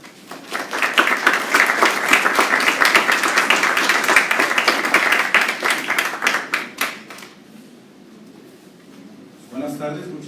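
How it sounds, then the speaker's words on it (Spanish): An audience at a medical anatomy society lecture claps loudly for an incoming speaker, a dense burst of applause that builds, holds for several seconds, then fades into near quiet before a brief voice at the end. "Recibámoslo con un fuerte aplauso."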